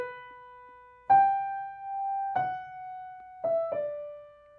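The melody of Schumann's From Foreign Lands and People, from Scenes from Childhood Op. 15, played on piano: five soft single notes, each struck cleanly and left to ring and fade, in a quiet room.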